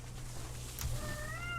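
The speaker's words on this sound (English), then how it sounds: "There's one on the outside of the door trying to get in, and the one on the inside of the door is like, dude, there's another cat." A cat meows outside a door trying to get in during a Railroads Online game session, a single drawn-out, rising meow near the end over a steady low hum.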